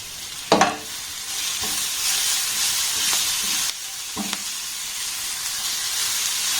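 Cauliflower, beans, potato and grated carrot sizzle in a pan over a low gas flame, with a steady hiss broken by a few scraping stirs of a spoon against the pan.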